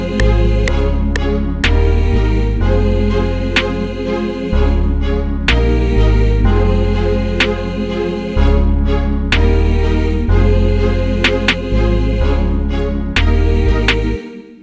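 African trap beat with booming 808 bass notes stepping between pitches, crisp snare and hi-hat hits, and layered melodic synths, playing loud and steady with no voices.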